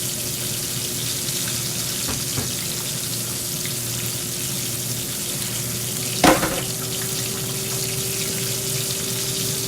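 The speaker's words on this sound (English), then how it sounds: "So I'm gonna let this fish fry up and then we'll be back together again." Fish frying in a pan gives off a steady, even sizzle with a constant low hum beneath it and one brief clatter partway through.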